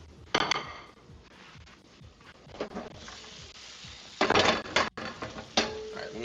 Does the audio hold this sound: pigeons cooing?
no